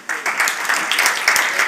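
Conference audience at a digital commerce summit in Balun Hall clapping after a talk, a brief burst of crowded applause that starts abruptly and holds evenly.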